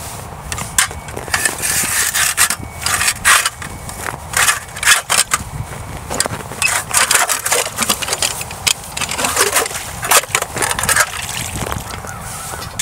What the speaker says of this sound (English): when you find your spot, then just take your auger and start going